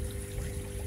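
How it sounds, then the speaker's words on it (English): Water trickling into a backyard aquaponics fish system, a soft continuous splashing and gurgle with a faint pump hum beneath, quiet and close, with no talk. "the water coming in"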